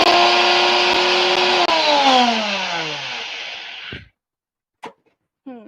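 A blender roars loudly, then its motor pitch sags and slows as it gets stuck, cutting out abruptly, followed by a couple of brief knocks.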